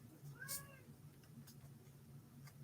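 A house cat meows once, a clear rising-and-falling cry near the mic, over a low steady room hum, with a few faint clicks afterward.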